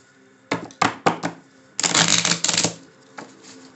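A tarot deck being shuffled by hand nearby, with several quick separate card snaps followed by a longer, dense riffling burst, then a faint tap as the cards settle.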